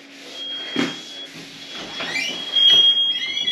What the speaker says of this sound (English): No, that's the fire alarm.